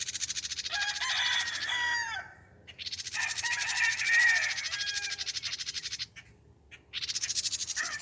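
A pair of turkeys call close by in loud, warbling squawks and gobbling bursts, with a short gap around the middle before the calling picks up again.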